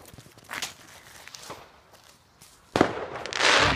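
Firecracker set off from a Netto box on New Year's Eve, a sharp near burst followed by loud crackling and hissing, with smaller pops and distant bangs before it.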